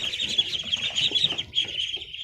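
A flock of about a hundred two-week-old ducklings peeps continuously in high chirps, with some fluttering and shuffling below, fairly close.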